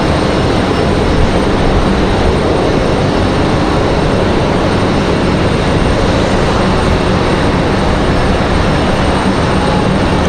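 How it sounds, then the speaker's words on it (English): A JetBlue jet taxis down a slope at Raleigh-Durham International Airport, its engines giving a steady, loud broadband roar that holds evenly throughout with no talk over it. "Comes our JetBlue down the hill"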